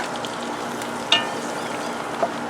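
Flour cooking in fat in a pan after browned meat has been removed, giving a steady low sizzle and fry with a couple of brief clicks or scrapes and no talking.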